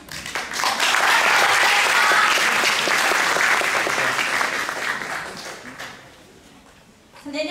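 Sustained applause from a festival audience at the Yokohama Yosakoi festival, greeting a university yosakoi dance team; dense, steady clapping fills several seconds, then fades to a quiet lull before a short fresh burst at the end.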